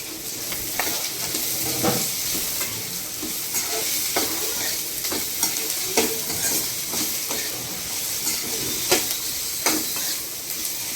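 Onions and capsicum for Hakka noodles sauté in a pan, with a constant near sizzle broken by a regular series of sharp spatula scrapes and taps roughly every second.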